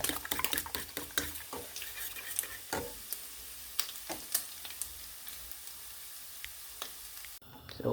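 Ham, sliced potatoes and scrambled eggs fry together in a pan, a dense close sizzle broken by frequent sharp crackles and spatula clicks, steady until it cuts off near the end.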